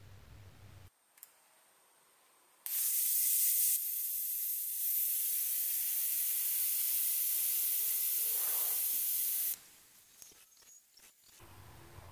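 Compressed air hisses loudly out of the opened pressure release screw on an EDgun Leshiy air rifle, a sharp sustained rush lasting several seconds and then cutting off abruptly, framed by quiet handling clicks.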